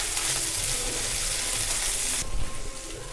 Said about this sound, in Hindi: अब यहाँ पर डाल रही हूँ 1 मीडियम साइज की प्याज बारीक कटी हुई, 2 हरी मिर्च बारीक कटी हुई, इनको भी अच्छे से भून लेना है